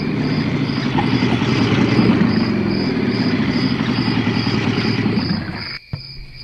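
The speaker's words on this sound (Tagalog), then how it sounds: "Duha ka motor nga nagpaingon din sa ato, ma." Motorcycle engines drone steadily at night, with a sustained buzzing hum and a high whine layered over the mix before it cuts abruptly near the end.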